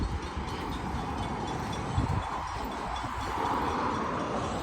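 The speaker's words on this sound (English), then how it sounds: "we're gonna get the train too." A train rolls past near Rockaway Beach in Barview, a continuous loud rumbling roar with wind buffeting the microphone, steady and close for the whole stretch, with no talking.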